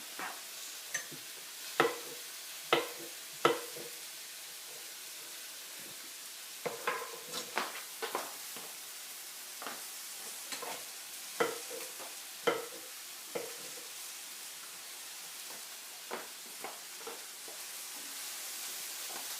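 Mushrooms sauteing in a pan, a soft steady sizzle broken by scattered clicks and scrapes of stirring, close and fairly quiet with no voices.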